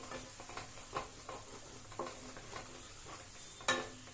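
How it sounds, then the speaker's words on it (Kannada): Masala with onion and tomato frying in a pan for an egg gravy, a faint sizzle under repeated spoon strokes and scrapes against the pan, with one sharper clink near the end. "ಚೆನ್ನಾಗಿ ಒಂದು ನಿಮಿಷ ಫ್ರೈ ಮಾಡ್ಕೊಳ್ಳಿ ಆ ಮಸಾಲ ಜೊತೆ ಎಲ್ಲ ಈರುಳ್ಳಿ ಟೊಮೆಟೊ ಎಲ್ಲ ಚೆನ್ನಾಗಿ ಮಿಕ್ಸ್ ಆಗಬೇಕು"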